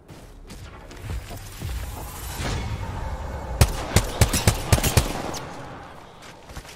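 Gunfire rings out in a shooter video game, a burst of sharp, loud shots in quick succession over a rumbling background of in-game noise, with no talking.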